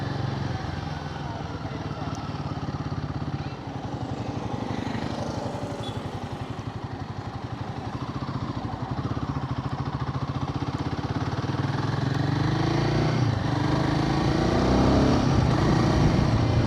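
A Royal Enfield Guerrilla 450 motorcycle ridden hard in performance mode, its engine droning steadily with wind rush throughout, rising slightly in pitch and loudness toward the end as the bike picks up speed.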